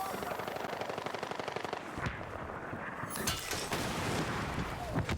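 Rapid gunfire bursts in the video game Battlefield, dense machine-gun chatter for the first two seconds followed by scattered shots and impacts amid game noise, moderately loud.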